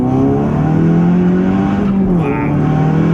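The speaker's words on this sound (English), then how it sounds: "this is the first time you've driven the car on E85" A 484 bhp Volkswagen Polo GTI 6C running on E85 fuel accelerates hard, its engine note climbing in a loud, continuous drone heard from close by.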